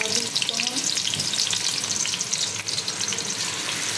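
Onions fry in very hot oil, a dense, loud, continuous sizzle with stirring scrapes, close up and with no voices.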